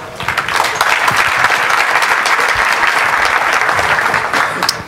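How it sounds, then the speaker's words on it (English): Audience at a FOSDEM 2014 open-source conference applauding a developer before his talk, a loud, dense burst of clapping that holds steady for several seconds and then tapers slightly. "let's applaud him for his talk"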